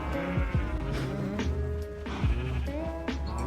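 Sheep in the video game Minecraft bleat repeatedly, several wavering nasal baas close by over a steady hum of other farm animal sounds, with no talking.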